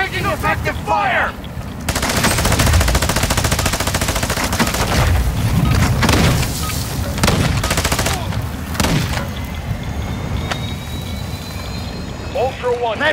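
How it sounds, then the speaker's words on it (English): Heavy gunfire in the video game Call of Duty Warzone DMZ, loud sustained automatic bursts and shots rattling on for most of the clip, with shouted voices over the battle at the start and end. "Watch him fire! Watch him fire! Taking effective fire!"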